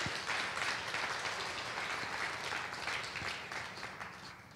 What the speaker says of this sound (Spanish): dé un fuerte aplauso al Rey de Reyes y Señor de Señores